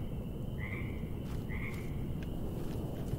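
Frogs croaking in a foggy bog in the game Mortal Shell, two short raspy calls followed by fainter clicks over a steady dense ambient drone.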